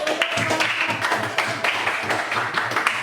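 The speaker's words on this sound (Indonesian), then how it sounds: "Oke, tepuk tangan dong." Students in a Year 10 history class at SMAN 1 Lenteng applaud together, a steady run of quick, rhythmic hand claps in a room, fairly loud and continuous throughout.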